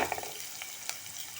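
Chopped onion with a pinch of salt sizzles steadily in a pan for a banana flower bhaji, a close, dense hiss with a few brief clicks and stirring taps, no voices.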